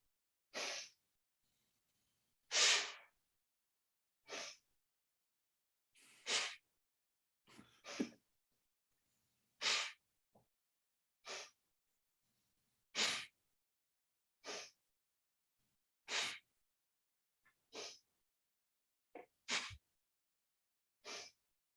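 Bellows breathing, a yoga breathing exercise: about fourteen sharp, forceful bursts of breath through the nose, alternating exhales and inhales in a steady rhythm, each separated by brief silence, close and fairly quiet.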